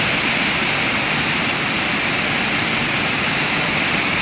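Floodwater rushes over submerged roads in a loud, steady, broadband roar that stays unbroken throughout, with no voices or other distinct sounds.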